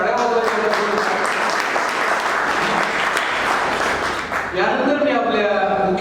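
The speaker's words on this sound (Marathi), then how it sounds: "सुरेश प्रभूंसाठी आपण टाळ्या वाजवायच्या" Sustained audience applause at a Marathi book-launch ceremony for Suresh Prabhu, a dense, loud wash of clapping filling the whole stretch, briefly thinning near the end before swelling again.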